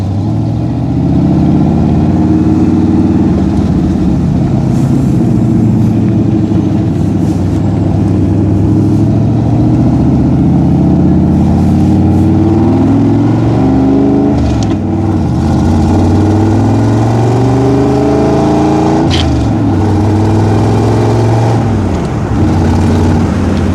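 A 1965 Shelby Cobra 427 replica on the road, its engine droning loudly and close throughout, rising and falling in pitch through several gear shifts as it accelerates.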